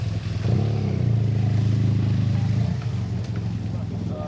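Motorcycle on a French holiday motorway pulling over at a police stop, its engine droning low and steady then easing off, close by, with traffic noise and people talking over it.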